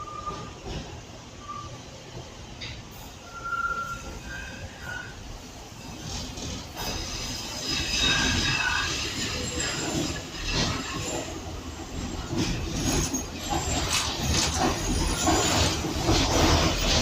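A Docklands Light Railway train running between Canary Wharf and London City Airport, a steady close rumble of wheels and carriage noise with intermittent high squeals and brief tones, growing louder toward the end.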